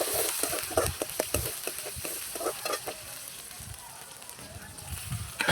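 Onions sautéing with spices in a pan give a steady low sizzle and frying hiss. Utensil scrapes and stirring clatter sound close over it.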